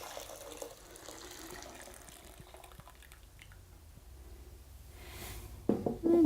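Tap water pours steadily into a crock pot holding dry mung beans, a continuous close splashing flow that swells louder near the end, with no one speaking.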